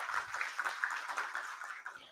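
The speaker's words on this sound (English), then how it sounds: "Once again, round of applause for Dr. Sridevi, everybody." Graduates and guests at a university graduation ceremony give a faint, distant round of applause, a soft continuous patter of many hands fading toward the end.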